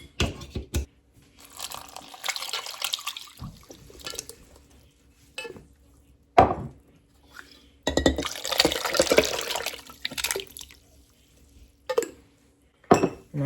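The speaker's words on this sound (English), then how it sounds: "we're gonna do 2 jars of homemade dill pickles with the juice" Two jars of homemade dill pickles with their juice poured over a roast in a pot: clinks of glass and metal, then gurgling bursts of liquid and splashes in separate close spurts with quiet gaps between.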